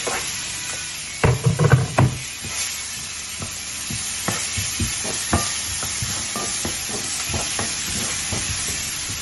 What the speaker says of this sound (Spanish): Vamos a colocar un poquitico más de aceite porque vamos a colocar la cebolla.